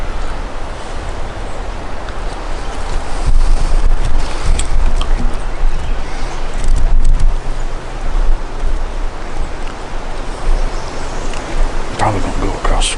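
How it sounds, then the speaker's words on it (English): Strong gusting wind blows outdoors on public land during a turkey hunt near a creek, a steady loud roar with surging gusts through the whole stretch and no talk. "This wind is getting it"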